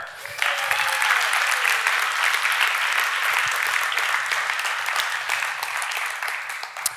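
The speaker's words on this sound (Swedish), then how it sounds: "En applåd för er!" An audience at a 24-hour business camp applauds the participants: a sudden burst of bright, dense clapping that holds steady for several seconds before tapering slightly, with a brief whistle near the start.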